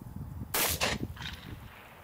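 Shots from a Masterpiece Arms Defender 9mm pistol fired at a target: two close, sharp reports in quick succession, followed by a fainter echo.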